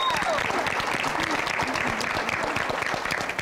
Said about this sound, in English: So would you give my wife a round of applause?